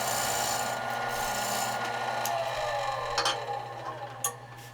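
A gouge scraping across wood while carving a dragon bowl, a continuous rasping rub that fades toward the end with a few sharper ticks, heard close and alone.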